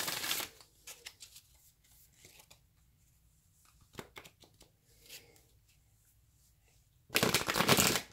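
Tarot cards shuffled by hand: a loud riffling burst at the start, scattered soft card slaps and flicks through a quiet middle, then another dense, loud shuffling burst at the end.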